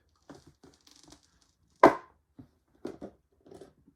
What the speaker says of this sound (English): it's kind of tough trying to put holes in these container lids